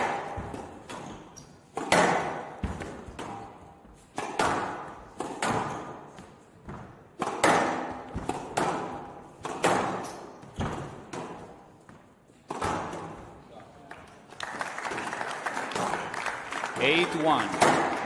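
Squash ball strikes during a professional quarterfinal match ring out as sharp, repeated thuds and pings off racket and walls in an irregular rally rhythm, with commentary talk running over them and crowd applause rising near the end.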